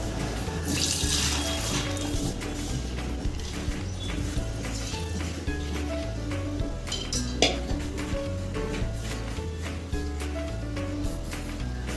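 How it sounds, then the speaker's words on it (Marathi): Water runs and splashes in a sink while metal dishes clink and scrape as soaked lentils are drained, a steady wet wash with occasional sharper knocks. "हे बघा छान भिजली ती आता आपण ड्रेन आउट करून घेऊया"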